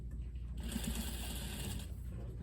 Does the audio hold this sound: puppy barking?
no